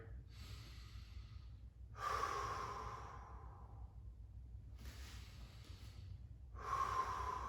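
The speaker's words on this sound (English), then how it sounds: "You should just be inhaling and exhaling here." Slow, audible breaths in and out during a hip rotation stretching exercise, two long inhale-exhale cycles close to the mic, airy and unhurried with no talk.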